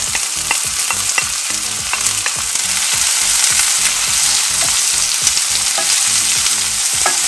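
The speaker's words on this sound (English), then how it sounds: "Gonna saute this." Onion and ginger sautéed in hot oil for Filipino sweet and sour pampano, a loud continuous close sizzle with regular rhythmic spatula scrapes against the pan, no talking.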